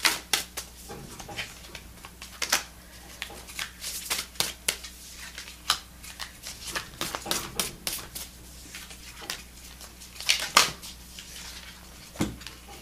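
Tarot cards being shuffled up close in irregular riffling bursts of crisp flicks and slaps, soft and intimate, with no talk.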